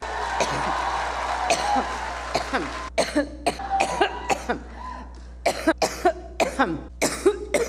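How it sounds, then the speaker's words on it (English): A series of dry, hacking coughs, first in a few spaced bursts, then rapid short repeated coughs, close and fairly loud. "So that's a dry cough."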